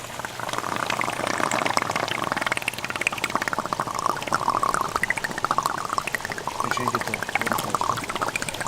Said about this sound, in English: After 2 days of work, the pond is filling.